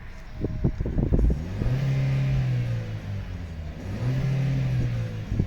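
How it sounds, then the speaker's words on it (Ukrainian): A 2018 Buick Cascada's 1.6 turbo petrol engine with automatic gearbox is revved twice while idling, each blip rising into a steady held drone before easing off, close and fairly loud. "Ну що, газонем."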